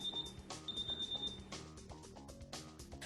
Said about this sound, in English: This person has set her alarm, and the exit beeps are sounding as they leave to run an errand.